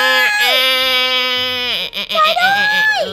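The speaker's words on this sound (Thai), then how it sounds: "เด็กร้องไห ้" A giant baby character in the Sakura School Simulator video game cries in a loud, sustained, wailing tone that rises and breaks into sobbing pulses, with game voices speaking over it.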